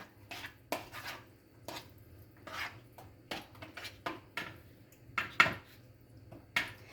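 Balsamic vinegar topping being mixed in a bowl for cream cheese parmesan French bread: close, irregular clinks and scrapes of a utensil against the bowl, with short pauses between strokes and no talking.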